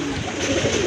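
Pigeons at a market stall coo close by, a soft low murmur of overlapping calls lasting about a second, with no talk.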